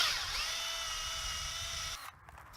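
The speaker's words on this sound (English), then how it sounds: "I like to drill in on just a slight upward angle." Power drill boring a tap hole into a backyard maple tree trunk, a steady high-pitched motor whine close by for about two seconds before cutting off abruptly.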